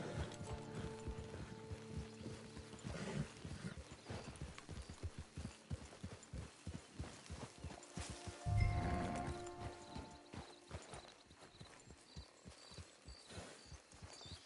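Steady clip-clop of horse hooves trotting in a video game, a regular rhythmic beat running throughout with some background music and ambient noise, fairly quiet.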